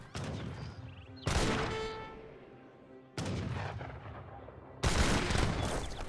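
Cannons firing and exploding in Age of Empires 3 battle gameplay, three loud booming blasts each followed by a ringing, decaying crash, spaced roughly every one and a half to two seconds over steady battle noise.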